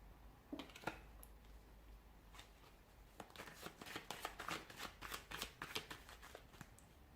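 A deck of tarot cards shuffled by hand, with crisp riffles and flicks that speed into a rapid, busy run of card slaps in the second half, close and fairly quiet.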